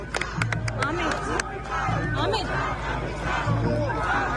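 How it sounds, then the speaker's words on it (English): A fairly large crowd of pro-Palestine activists gathers outside the ICJ courthouse, a dense babble of voices with shouts and cheers close by, punctuated by sharp clicks at the start. "fairly large crowd outside"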